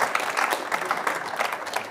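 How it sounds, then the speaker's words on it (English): Dense, steady applause from a sizable crowd, many hands clapping continuously at close range, for a speaker at a business event. "Please give a large applause to Christoph."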